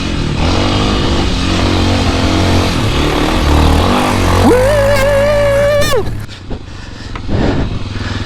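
A Honda XR650L motorcycle climbs single track on a Wisconsin trail, its engine loud and close, with a rising high rev held briefly before it drops off. Voices call out over the engine.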